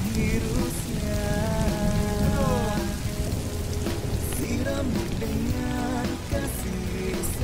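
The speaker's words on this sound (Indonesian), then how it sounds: "hujannya gede banget nih" Heavy rain pours down in a steady, dense patter, with tonal, music-like sounds layered over the continuous downpour.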